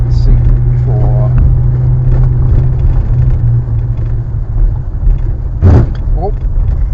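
A 1963 Rover P4 110 saloon drives along with a loud, steady low engine rumble and road noise close inside the cabin, while people talk over it and a brief clunk sounds near the end.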